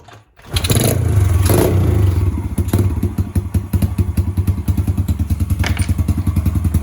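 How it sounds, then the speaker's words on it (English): A 1995 Chevy OBS truck engine fitted with a cheap slip-on muffler cranks, fires up and settles into a loud, steady, throbbing idle close by. "Listen to that motor purr"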